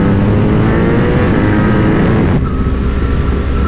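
A BMW R 1250 GS motorcycle engine drones steadily and loud while riding, with wind rush throughout and a sudden drop in high-end noise partway through.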